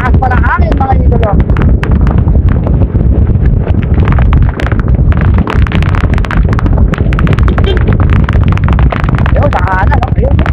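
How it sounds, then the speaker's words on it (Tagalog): Strong wind buffets the microphone in a steady, loud roar during a 60 kph rematch event, with people talking excitedly over it throughout. "Napakalakas pa ng hangin"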